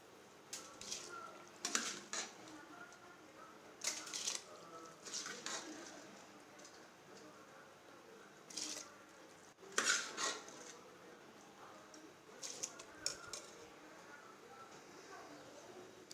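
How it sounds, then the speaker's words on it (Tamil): Rice is stirred into a pot of boiling, beetroot-coloured water for vegetable biryani. A spoon scrapes and clatters against the pot in short, intermittent bursts, fairly quiet with pauses between strokes. "அரிசி போட்டாச்சு. நல்லா கலக்கி விட்டாச்சு."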